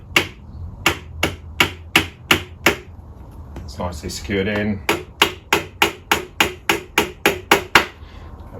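A small nail hammer taps in quick, even strikes on a classic Fiat seat frame during reupholstering, a short pause with a brief spoken remark, then another steady run of sharp taps.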